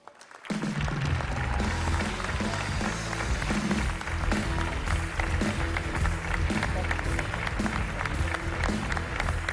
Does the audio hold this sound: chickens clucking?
no